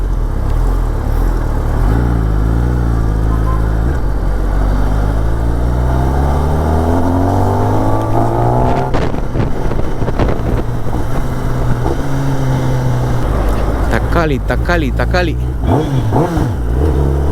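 Kawasaki ZX10R motorcycle on the road, its engine droning and shifting pitch steadily with strong wind buffeting throughout, while a rider talks over it.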